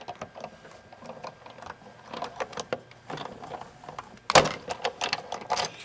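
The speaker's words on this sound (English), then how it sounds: "Let's cut this same die out again using just a plain piece of black cardstock" A die cutting machine pressing a stitched die through plain black cardstock, a run of soft mechanical clicks and grinding rolls, close and moderate, ending in a louder thunk, with no talking.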